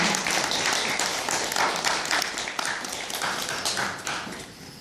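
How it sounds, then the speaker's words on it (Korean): A crowd applauds at the founding assembly of an international sijo poetry association, dense sustained clapping filling the room for several seconds. "여러분, 어, 큰 박수 부탁드립니다."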